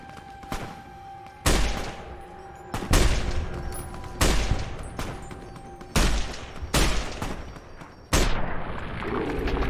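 Energy weapons firing in Fallout: New Vegas, a series of about six loud, sharp discharges spaced roughly a second or so apart, each with a ringing decay, close by and without talk.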